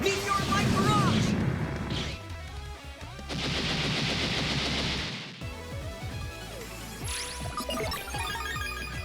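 The Meteor Light Barrage attack from the video game Mega Man Star Force 3 unloads a dense flurry of blasts, crashes and booming impacts that swell loudly, pause briefly, then surge again in rapid bursts.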